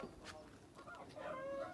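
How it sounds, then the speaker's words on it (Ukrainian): Chickens cluck softly nearby, a few short calls ending in a longer drawn-out cluck against a quiet farmyard background. "під звук у цих курей покажу ще це"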